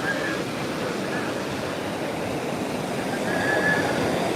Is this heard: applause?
no